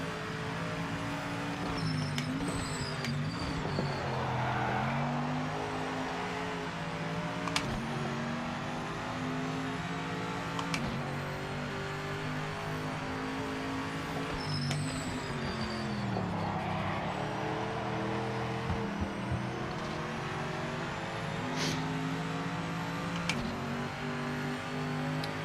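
A BMW GT4 race car in a racing video game accelerates hard, its engine droning loud and steady with rising revs and gear shifts, racing on continuously.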